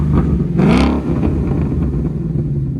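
A loud 2016 Ford Mustang GT 5.0L V8 with Flowmaster X-Pipe and valved exhaust, valves open, blips up in a quick rev, then settles back to a throaty, rumbling idle.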